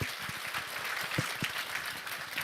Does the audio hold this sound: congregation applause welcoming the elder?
yes